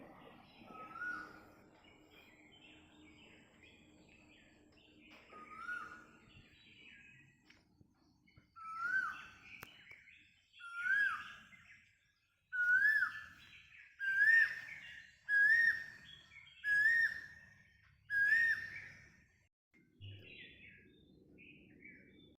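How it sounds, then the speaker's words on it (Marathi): A koel repeats its rising whistled call, louder and more regular toward the middle, with soft sparrow chirps in the quiet outdoor background at eight in the morning. "छानपैकी कोकिळेचा आवाज येतो आहे चिमण्यांचा आवाज येतो आहे"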